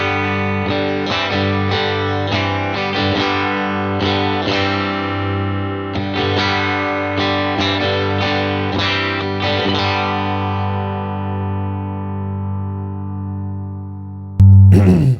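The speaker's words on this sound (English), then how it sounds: "I can hear that Fender amp compression that they do really well" Electric guitar run through an amp modeler voiced as a compressed Fender amp, playing sustained chords with repeated strums for about fourteen seconds, then a short loud burst at the end.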